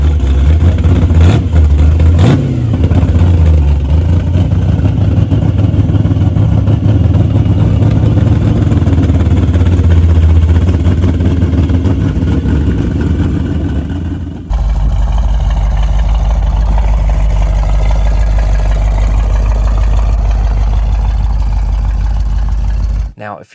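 A 1971 Chevrolet Corvette engine rumbles loudly up close, with a couple of sharp revs early on, then settles into a deep, steady, lumpy idle for the rest.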